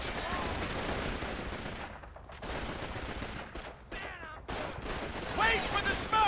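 Machine gun fire and battle noise in the video game Call of Duty 2 (Big Red One), a sustained dense clatter of gunshots running nearly throughout, with brief lulls and speech mixed in.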